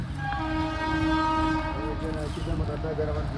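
A train passes at Mookambika Road Byndoor station, its horn sounding loud and sustained at the start, then fading into steady rumbling rail noise.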